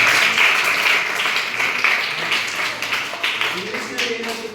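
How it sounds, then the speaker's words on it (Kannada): Applause and clapping from a school audience after a correct answer in a Chandrayaan 3 quiz competition, loud and sustained at first, then thinning into scattered claps as a voice speaks over it. "ಚಪ್ಪಾಳೆಗಳು"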